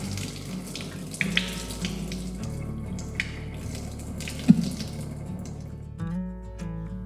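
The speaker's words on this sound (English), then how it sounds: "I'll show you a neat trick to easily drain the water using an ordinary toothpick" Pasta water drains from a pot through a gap between its lid and rim, held open with a toothpick, making a steady splashing pour with occasional louder splashes, close and without talk.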